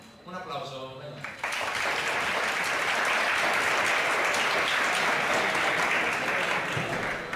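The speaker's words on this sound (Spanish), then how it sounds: "Un aplauso." A conference audience bursts into loud, sustained applause right after a man's brief spoken introduction, the dense clapping continuing steadily to the end.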